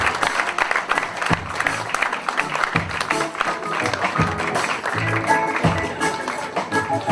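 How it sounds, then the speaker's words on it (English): An audience at an event claps together in warm, sustained applause, a dense patter of many hands that continues steadily while voices carry faintly underneath. "I invite us to put our hands together for Mwadalito Mwando of Zimbabwe"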